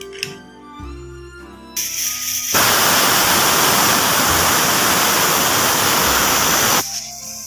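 A pressure cooker whistling while jackfruit curry cooks on a gas stove: after some lower sounds, a loud, steady, forceful hiss of escaping steam rises and holds for about four seconds, then cuts off sharply.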